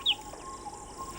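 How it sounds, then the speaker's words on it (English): Birds such as the nectar-feeding scarlet-chested sunbird calling among flowering aloes in South Africa, a single sharp high chirp at the start followed by faint thin calls over a quiet outdoor background. "attract many bird species, such as the nectar-loving scarlet-chested sunbird."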